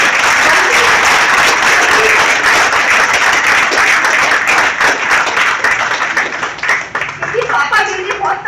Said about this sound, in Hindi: मेरी माँ के लिए एक जोरदार तालियां।